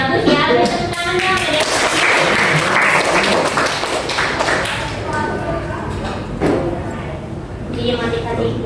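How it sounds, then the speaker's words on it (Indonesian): Students in a classroom break into lively applause, dense overlapping claps sustained for several seconds at close range, gradually thinning toward the end with some voices mixed in. "Oke, bagus ya. Tepuk tangannya"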